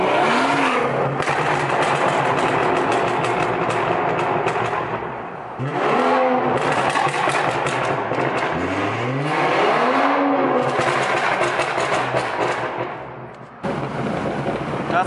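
A loud-exhaust Alfa Romeo Giulia in sport mode with manual shifting revs hard inside a tunnel. Rising engine sweeps repeat several times, with sharp crackles and pops echoing off the walls, close and dominant.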